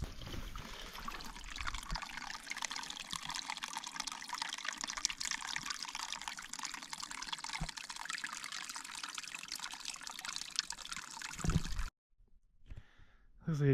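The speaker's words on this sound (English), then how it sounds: "we got some trickles here" A small stream trickles steadily outdoors in a caldera, a continuous close wash of water that cuts off near the end, followed by faint rustling.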